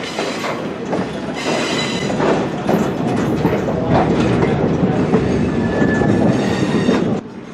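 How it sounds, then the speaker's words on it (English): A train runs on rails with loud, continuous clickety-clack and occasional wheel squeal. The sound is close and steady, then drops off sharply just before the end. No talking. "As soon as our train reached the Potter Street crossing, we then came to a stop"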